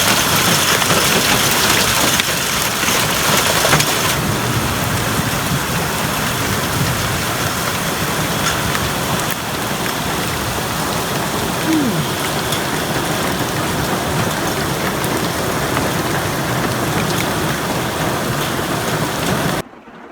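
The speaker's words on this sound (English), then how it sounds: "What not to do in a hailstorm?" Hail pelts the roof and body of a van during a hailstorm, a loud, dense, continuous drumming that persists for about twenty seconds before cutting off abruptly.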